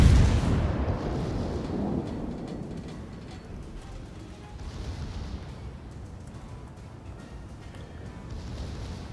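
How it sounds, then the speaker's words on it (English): Video game gunfire and explosive booms rumble continuously as a low, dense roar, loudest at the start and then settling into a steady mid-level battle din with no voices. "I'm just gonna keep putting shots on Romy"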